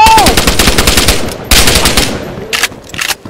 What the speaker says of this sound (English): What gun are you shooting at me?